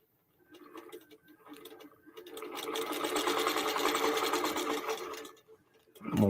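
QBOT V3 quilting machine stitching a mini-tote with line quilting, a soft start building to a steady rapid mechanical whir that then tapers off, close and moderately loud, with no talking.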